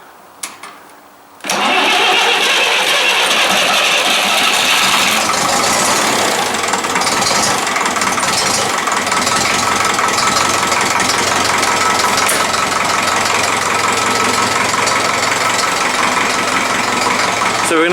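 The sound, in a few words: Grey Ferguson tractor engine starting by push button and idling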